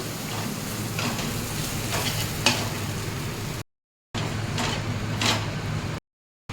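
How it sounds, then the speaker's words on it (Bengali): Cumin paste, coriander powder, chopped chili and chili powder stirred in a pan, a steady close sizzle with scraping strokes of the spoon, broken by two short dropouts. "দিয়ে এবার ভালো করে নাড়াচাড়া করতে হবে"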